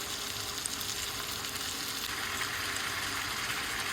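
Chicken for a Kerala chicken stew fries in a pan with a steady, close sizzle that holds even and unbroken, with no voice over it.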